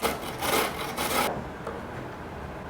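Vegetables for shepherd's pie are rubbed against a kitchen grater in quick rasping strokes for about a second, then faint scraping follows in a quiet room.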